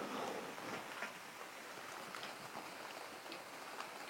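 Rain falling outside at night, a faint steady hiss of drops with soft scattered patters, distant and continuous with no voices.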